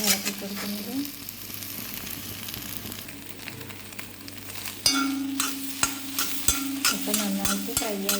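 Egg being stirred and fried in a pan for Kerala-style egg thoran, with a steady sizzle under repeated sharp scrapes and taps of a spatula against the pan, growing busier toward the end.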